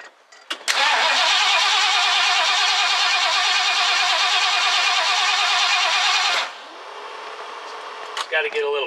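A 1969 Ford Club Wagon engine cranks briefly, then catches and runs loud and rough for about six seconds before dropping to a quieter idle, close by.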